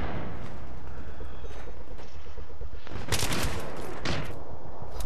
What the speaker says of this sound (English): Oh, you got me with the shotgun.